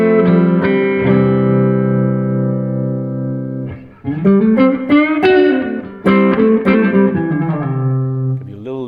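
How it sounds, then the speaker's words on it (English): A Fender electric guitar on its neck pickup rings out with open strings, then a run of warm clean notes and chords with delay and reverb, loud and close, no talking. "So a neck pickup sounds like this."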